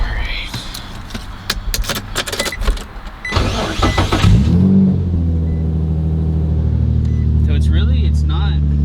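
An Infiniti G35 fitted with a custom exhaust clatters with clicks and door or key noises before the engine cranks and fires, settling into a deep, loud idle rumble with a light blip of revs near the end.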